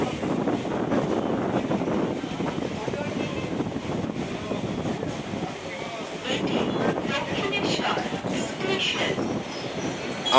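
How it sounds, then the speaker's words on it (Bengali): Local train rolling into Dakshineswar station in West Bengal on the Dankuni–Sealdah line, a steady continuous rumble of wheels and carriage noise with wind buffeting throughout, heard from inside the moving train. "আমরা ডানকুনি থেকে 9 কিলোমিটার পথ অতিক্রম করে প্রবেশ করলাম দক্ষিণেশ্বর স্টেশনে।"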